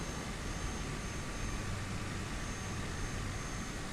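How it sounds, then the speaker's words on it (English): A Cessna Caravan's turboprop engine hums steadily while taxiing down the runway in a flight simulator, a constant, dense, broadband drone without any breaks. "And we're going to be taxiing down the runway."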